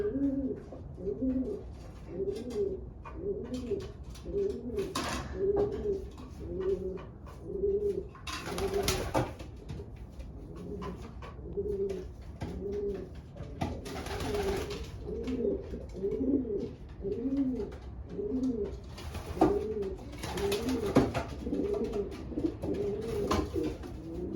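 Breeding-season pigeons coo steadily and repeatedly in rolling, throaty phrases, close by and continuous, with occasional brief rustles and flutters.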